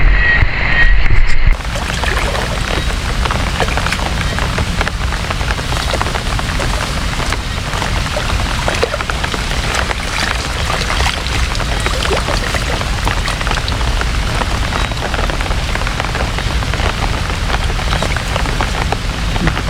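Steady, heavy rain pours down and drums on a surface without letup, a dense close wash of noise after a brief different sound at the start.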